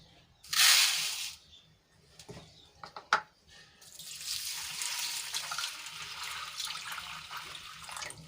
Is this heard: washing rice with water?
yes